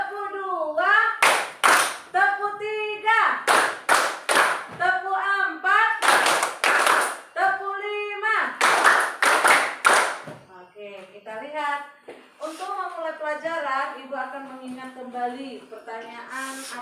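Children in a classroom clap in counted bursts, sharp groups of hand claps alternating with a chanting voice that calls out each count, the rhythm repeating several times before the talk continues.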